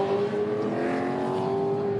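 V8 Supercar from the Dick Johnson Racing team running at speed on track, a steady loud engine drone holding one pitch throughout with no talk.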